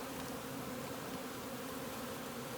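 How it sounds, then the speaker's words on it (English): Honey bees buzzing at the hive, a dense, continuous drone of many insects at close range, steady and unbroken with no voices. "So they're really busy collecting nectar, pollen, putting it in those honeycomb cells"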